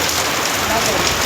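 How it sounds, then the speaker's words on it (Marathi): Heavy rain pours down steadily, a dense, continuous hiss of drops hitting surfaces close by, with no pauses or talk. "गाइस बघा केवढा पाऊस पडतोय पाणी वाहते"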